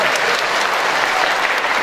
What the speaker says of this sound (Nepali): उहाँलाई जोरदार तालीले सम्मान गर्नु